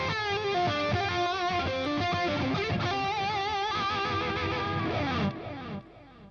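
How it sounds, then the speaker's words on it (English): A lead electric guitar played through delay, with sustained distorted melodic notes and echoing repeats smeared across a busy phrase, loud and alone before trailing off into decaying echoes. "there's plenty of delay on the lead guitar sound coming up"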